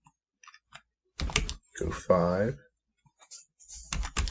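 Computer keyboard clacking in short bursts while entering values in CAD software, close and crisp, mixed with a voice talking over and between the keystrokes.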